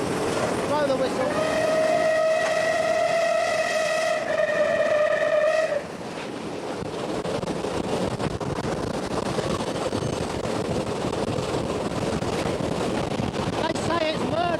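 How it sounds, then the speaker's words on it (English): The steam whistle of the Southern Railway locomotive Clan Line gives one long, loud, steady harmonic blast of about five seconds. The engine's rushing, chuffing roar continues strongly after the whistle stops. "Blow the whistle."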